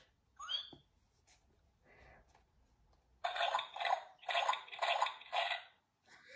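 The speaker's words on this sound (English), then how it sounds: "Everyone is having a wonderful, noisy time jumping and splashing." Cartoon splashing in muddy puddles, with several bursts of wet splashes and jumps in quick succession, loud and close, following a few lighter squeaks and sounds.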